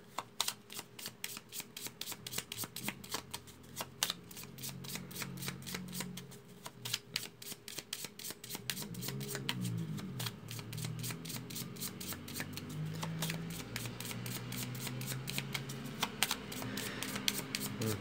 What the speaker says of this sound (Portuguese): Então aqui só terminando de embaralhar. Cortando um monte.